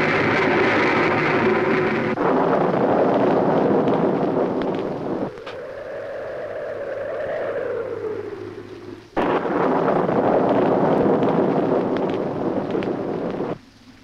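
Strong stormy wind gusts roar continuously through a film scene, loud and broadband, with a brief lull in the middle where a softer tonal howl rises and falls before the blustering returns.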